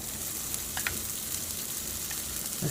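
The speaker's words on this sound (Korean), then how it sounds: "들기름 좀 붓고 다져놓은 고추를 여기다 부어가지고" Chopped chili peppers frying in perilla oil in a pan, giving a constant close hiss of sizzling with faint crackles and a few light stirring clinks.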